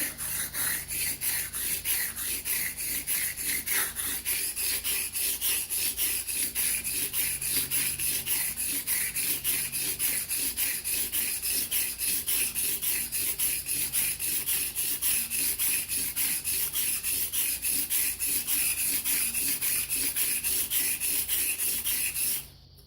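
A brand-new Gold Dollar 66 straight razor stroked back and forth on a wet whetstone to set the bevel, a steady, close, continuous rhythmic rasping and rubbing that runs throughout.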